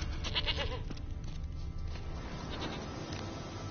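A goat bleats repeatedly in the Witcher 3 video game, with wavering cries over a steady farmyard background ambience.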